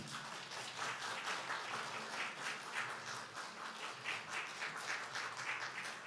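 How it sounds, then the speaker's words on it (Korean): A congregation applauds during a Sunday church service, with steady, dense clapping from many hands that holds at an even level throughout without any talking. "박수 보내시기 바랍니다"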